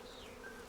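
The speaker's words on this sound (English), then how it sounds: "So there's quite a lot of bees flying around right now." Bees buzzing around a professional beekeeper's boxes near an extracting room, a faint steady hum with a brief higher whine passing close.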